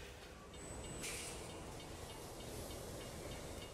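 A train rolls along in Borderlands 2, a faint steady rumbling hiss with a brief high whine near the start, continuous throughout with no voices.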